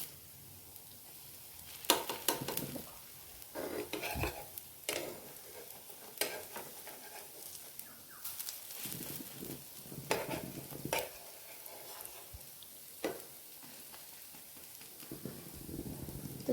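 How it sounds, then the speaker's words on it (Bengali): Masoor lentil paste fritters sizzle steadily in a pan, with repeated scraping and clattering as they are stirred and flipped, close and fairly quiet. "তো চলো আমি বড়াগুলা উল্টাই ভেজে নিই।"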